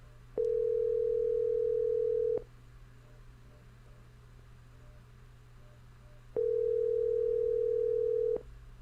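A telephone ringback tone sounds twice, each steady beep lasting about two seconds, separated by a long pause, over a faint low hum.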